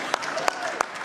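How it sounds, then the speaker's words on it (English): Brief, light applause from guests at a Pride reception at the State Department, a few distinct claps over a murmur of crowd voices. "you can applaud"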